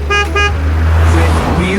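Two short car horn toots from a toy-like car, sounding close and loud, alongside a steady low engine hum and a voice speaking over it.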